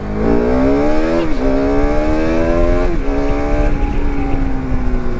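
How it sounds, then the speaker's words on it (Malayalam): Bajaj Pulsar RS200 motorcycle with 40,000 km on it, engine running loud and close, rising in a few revs that climb and drop back to idle, no talk. "വണ്ടി സ്റ്റാർട്ട് ചെയ്യുമ്പോൾ തന്നെ വൈബ്രേഷൻസ് വളരെ കുറവാണ്. ഞാനൊന്ന് കത്തിച്ചെടുത്ത് തരാം."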